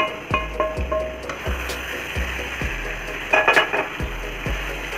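Chicken and egg being stirred into masala in a pan on a full flame, a utensil scraping the pan in a steady repeated rhythm over a constant sizzle, with a few clinks of metal.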